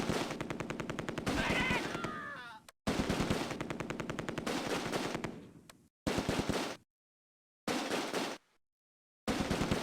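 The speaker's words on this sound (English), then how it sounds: "I locate an MG42 squad and another Schwerer's heavy machine gun." Long bursts of MG42 and heavy machine gun fire in the Close Combat video game, rapid hammering rounds in sustained volleys broken by abrupt silent gaps, with shorter bursts toward the end.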